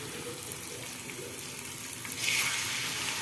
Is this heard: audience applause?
no